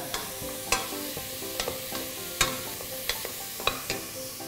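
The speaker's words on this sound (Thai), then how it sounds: "ผัดแบบนี้ด้วยไฟต่ำๆนะฮะ" Onion and mushrooms stir-fry over low heat with salt, a steady soft sizzle broken by sharp spatula scrapes and taps against the pan every second or so, with a tonal background running underneath.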